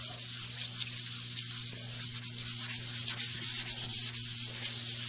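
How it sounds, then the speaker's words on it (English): Hand sanding by palm in circular motions on the body of a 1994 GMC Stepside pickup truck being prepped for paint, making a continuous close rough scratching hiss over a steady low hum. "you're gonna sand her down for the paint to stick"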